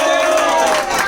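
Crowd at a local cricket player auction bursting into cheering and clapping, a dense and loud swell of many voices lasting about a second.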